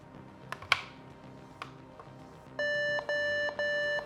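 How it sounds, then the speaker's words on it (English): An old mini PC beeps after being power-cycled, giving a steady electronic tone broken into three long beeps in a row, loud and close, following a few faint clicks and knocks. "I unplugged it and plugged it back in, and it beeped."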